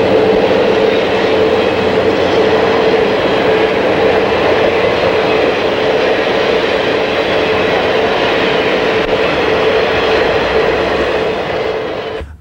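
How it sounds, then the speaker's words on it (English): An Illinois Central passenger train with matched cars in orange and chocolate brown rumbles past in a steady, loud roar of wheels and rail noise, holding for about twelve seconds before easing off at the end. "This long train carries all matched cars in the beautiful orange and chocolate brown paint scheme."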